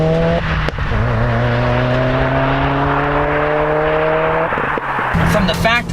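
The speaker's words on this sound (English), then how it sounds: "this FA20 DIT engine doesn't have unequal length headers, it makes a noise that's different than all the other STIs and WRXs" A 2017 Subaru WRX Limited with FA20 DIT engine and aftermarket exhaust accelerating close by, a loud rising drone stepping up through gears with brief shifts between pulls.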